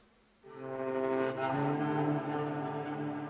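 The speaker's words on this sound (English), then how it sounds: "So I found this really cool bowed guitar sound from Trailer Guitars 2" A bowed guitar sample swells in after a short silence and sustains as a rich, droning tone with a fiddle-like quality, loud and alone.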